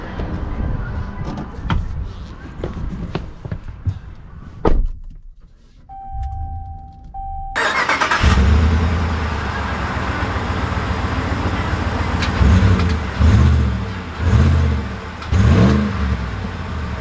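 A lifted Ram 1500 Longhorn pickup on air suspension fires up with a loud burst, then its engine settles into a steady close idle and rolls off, revving in a few rising surges as it drives away.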